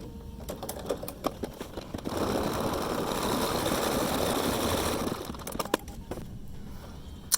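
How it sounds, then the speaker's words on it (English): A Bernina embroidery sewing machine stitches a basic outline around a heart shape. A few scattered clicks lead into about three seconds of steady, fast mechanical whirring, which stops and gives way to more light clicks and taps, up close. "I'm going to go ahead and stitch this out. It's going to be the just a basic shape around our heart."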